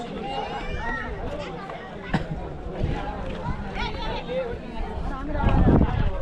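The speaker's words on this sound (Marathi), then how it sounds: "गर्दी बघा, गर्दी तुफान गर्दी." A dense crowd chatters at Mahadevgad Point in Amboli, many overlapping voices forming a steady outdoor babble, with footsteps and nearby movement mixed in.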